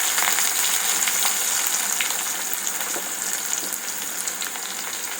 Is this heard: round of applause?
no